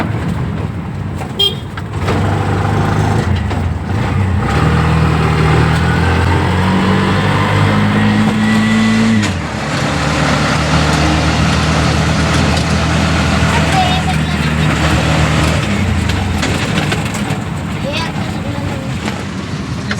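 An auto rickshaw driven in fourth gear, its engine a steady droning putter with a brief dip in pitch partway, close and continuous under people talking, with a horn toot near the start.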